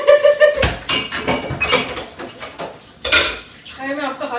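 Pots, plates and cutlery from old egg dishes clatter and clink as they are washed and handled close by, with bursts of metallic knocking and a voice speaking briefly between the clatters.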